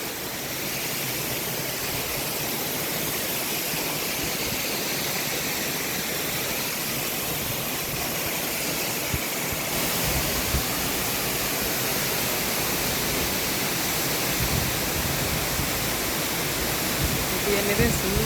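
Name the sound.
Nalagana waterfall in Bulathkohupitiya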